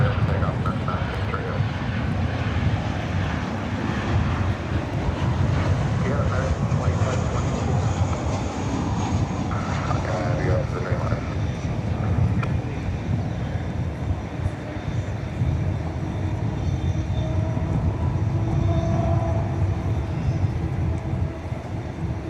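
Airliner taking off at DFW Airport at night, a steady, broad engine roar filling the whole stretch at constant loudness from a middle distance, with faint voices mixed in.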